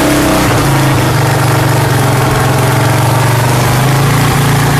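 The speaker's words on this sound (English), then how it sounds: "May noticeable difference dun sa engine noise nya upon startup." A CPI DTR 150 motorcycle engine running on Liqui Moly Street 10W-40 oil idles steadily after a cold startup, a loud continuous low rumble close to the microphone.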